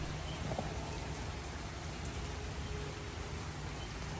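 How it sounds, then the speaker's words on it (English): Rain falls steadily on a humid day in Kansas, an even hiss of drops on outdoor surfaces with no pauses and no voices. "it is a rainy, gross, humid day in Kansas"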